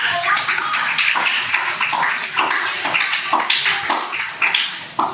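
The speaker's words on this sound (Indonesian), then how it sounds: "Tepuk tangan untuk" Applause from a small classroom audience for a group presentation: a run of quick, uneven hand claps at close range, rising and falling in short bursts.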